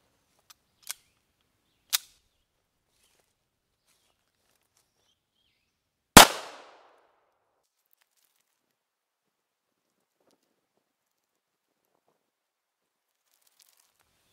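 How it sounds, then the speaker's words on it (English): Single loud 9mm pistol shot of a soft-lead 125 grain round-nose reload fired into a stack of pine boards, a sharp close crack with a brief decaying tail, preceded by a few faint clicks and otherwise silence. "My first shot is going to be a 125 grain round nose."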